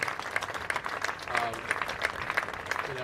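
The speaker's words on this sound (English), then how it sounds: "It's great to see the fans on both sides clapping for the young man." Fans on both sides clap at a high school football sectional game, a sustained crowd applause with scattered sharp claps, moderately distant, with a voice speaking faintly over it.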